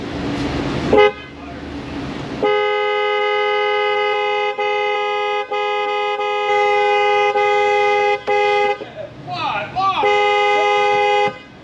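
A Chrysler car horn sounds during IPDM repair work, blaring loud and near in long sustained blasts with brief cutoffs and short restarts, after a moment of muffled handling noise.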